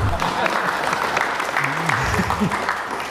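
A community gathering in Muaro Jambi applauds, a dense patter of many hands clapping nearby while a voice carries faintly through the clapping.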